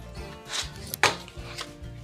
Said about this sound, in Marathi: आता आपल्याला ह्या दोन चपातीचे तुकडे करायचे आहेत